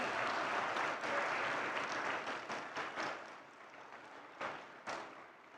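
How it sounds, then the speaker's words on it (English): A graduation ceremony audience at ISB applauds, a dense sustained wash of clapping that gradually thins and fades into scattered claps and a few louder bursts, heard from within the hall. "You'll have to keep up the applause till the last name."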